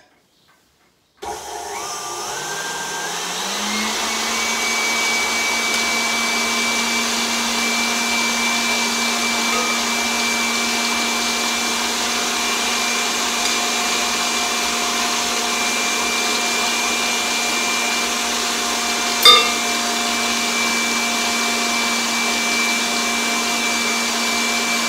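An electric hand mixer's whisk spins up and runs steadily, beating icing sugar into cake frosting with a constant loud whine and hum, and one brief clatter partway through.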